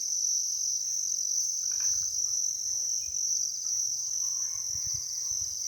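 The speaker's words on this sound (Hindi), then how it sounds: "अगर शांति को कोई भंग कर रहा है तो वो केवल झींगुरों की झुनझुन और मेंढकों की टर्राहट है।" Crickets trill in a steady, bright, continuous chorus on a cool night in the Kudremukh hills, with faint low croaks of frogs scattered beneath, no voices.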